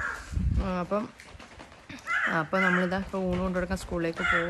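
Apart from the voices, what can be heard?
crow cawing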